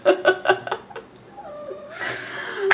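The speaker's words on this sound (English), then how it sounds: "What are you meowing about? Silly cats." Several house cats meow close by in a short, repeated series of plaintive cries, followed by a brief rustling sound.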